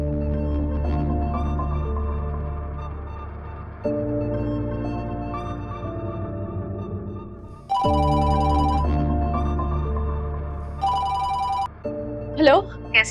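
A telephone rings on an outgoing call, with a steady repeating ring tone over loud continuous background music, and brief higher tones near the end.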